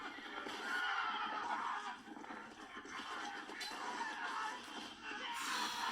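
Horses whinny and neigh amid hoofbeats and a busy background din on the set of a large medieval battle scene, filmed across an open field, with the calls fairly loud and continuous.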